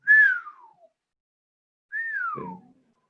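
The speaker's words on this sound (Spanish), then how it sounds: "la razón por la que tiene ese sonido como un silbido que decrece en frecuencia es porque en este modo longitudinal las frecuencias más altas viajan más rápido" A sonified longitudinal gravitational-wave mode plays as two clean, loud whistles, each sweeping downward in pitch, separated by a second or so of silence.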